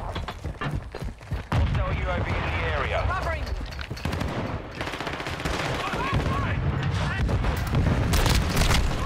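Gunfire in Modern Warfare multiplayer, with dense repeated shots and booms throughout, mixed with game effects and a player's voice talking over the action.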